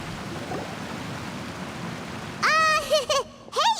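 Steady rain hisses in the video game Genshin Impact for a couple of seconds, then a voice starts talking over it.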